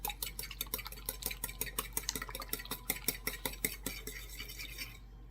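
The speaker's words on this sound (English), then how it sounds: "I'm just going to pre-scramble these eggs up" Eggs are whisked in a bowl with a fork or whisk, producing a rapid, steady run of close clinking taps against the bowl that fades off at the end.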